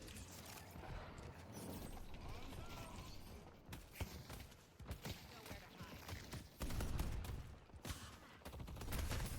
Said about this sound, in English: Setting up a turret.